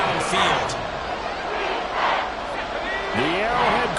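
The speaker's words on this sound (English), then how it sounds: "The Arrowhead crowd in full roar" A large stadium crowd roars at an Arrowhead football game, a dense, sustained wash of cheering that swells and holds steady across the whole stretch, with shouts rising out of it here and there.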